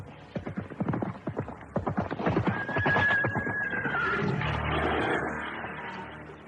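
An approaching horse clops its hooves in a quick, rhythmic patter that gives way to a long, high neigh, followed by a rumbling ambience.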